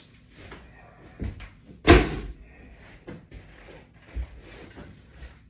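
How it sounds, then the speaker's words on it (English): Floor mats from an LW500 latch bar home gym are dragged and moved aside, giving a few scattered soft thumps and one sharper slap-like thud in a quiet room. "I'm just going to remove the floor mats out of the way."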